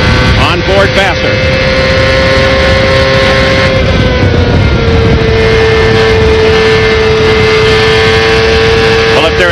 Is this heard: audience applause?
no